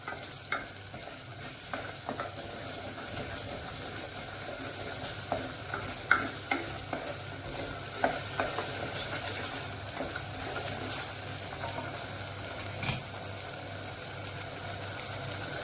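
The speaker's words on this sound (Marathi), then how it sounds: "तेल सुटेपर्यंत चांगलं परतायचं आहे याला." Mutton frying in oil in a home kitchen while being stirred, with a steady sizzle and scattered scraping clicks from the spoon against the pan, close and continuous with no talk.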